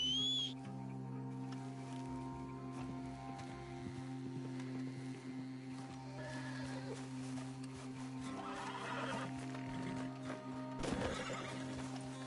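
Horse in the Western video game Red Dead Redemption 2: a whinny and neigh over clip-clopping hooves, with a steady game music bed and a louder burst near the end.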